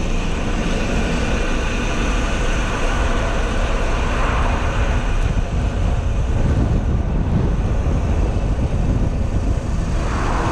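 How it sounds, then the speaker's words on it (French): Steady, loud crosswind roaring and buffeting across the microphone on a seaside road in Marseille, a continuous broadband rush with low rumble throughout, no voices. "il y a un vent de côté"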